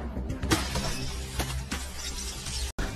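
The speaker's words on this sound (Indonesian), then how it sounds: "Mekabot membuang mesin jus buatan Pian hingga hancur" A homemade juice machine smashes to pieces in an animated Mechamato film scene, giving a loud, sharp shatter with scattered crashing debris over about three seconds.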